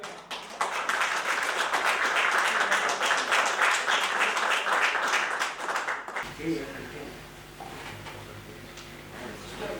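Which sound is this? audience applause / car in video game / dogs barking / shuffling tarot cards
audience applause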